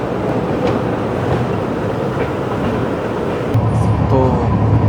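Chennai Rajdhani Express train running in a 3AC coach on the Chennai to Delhi route, heard from inside as a steady, loud rumble and rolling noise with a faint rattle near the end.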